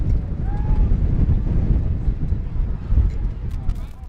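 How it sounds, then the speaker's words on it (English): Low, rumbling wind buffets the microphone steadily throughout at an outdoor baseball game, a constant blustery roar with faint background sounds. "Once again, pretty windy out there."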